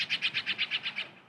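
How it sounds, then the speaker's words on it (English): A bird gives a quick, even series of about nine high chirps in the morning. The notes are fairly close and fade slightly toward the end, with nothing else heard. "Birds are so noisy in the morning."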